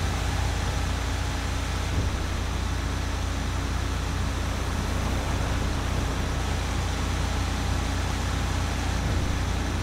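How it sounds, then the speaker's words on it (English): A Kenworth heavy wrecker tow truck in GTA 5 hauls an oversized load, towing a semi, with a steady, loud, continuous engine drone and road rumble that run unbroken and close for the whole stretch, with no talking. "the Kenworth wrecker is doing a great job hauling this load"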